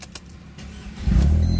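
A car engine is cranked during a repair job, a few brief starter clicks and churning, then the engine catches and settles into a loud, close, steady idle rumble.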